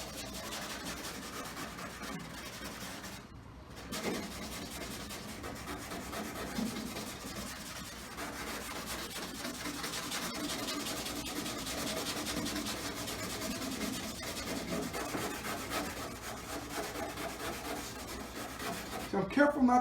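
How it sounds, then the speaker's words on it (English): A scouring pad rubs over a car's peeling, flaking clear coat, a steady close-up scratchy scrubbing that runs on continuously with only a brief pause partway. "So first I'm going to use this scouring pad."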